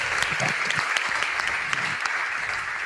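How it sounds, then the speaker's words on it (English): A live crowd at an esports tournament roars, claps and whistles in one dense, continuous wall of noise. Sharp claps and shouts stand out, and faint voices are buried underneath. "I can scarcely hear myself while they're cheering."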